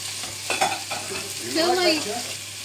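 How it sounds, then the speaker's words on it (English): Chicken sizzles and crackles in a hot pan on a kitchen stove, a steady close frying hiss with occasional stirring scrapes, no voices. "ASMR chicken sizzling with Mrs. Owl."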